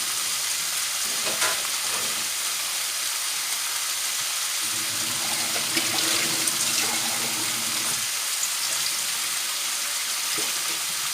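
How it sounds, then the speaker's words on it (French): About 100 ml of water poured over beef and carrots in a stew pot for a wine-free beef and carrot dish. It gives a continuous rushing hiss and sizzle, with a lower gurgling band midway, close and alone. "Et je vais recouvrir avec à peu près 100 ml d'eau"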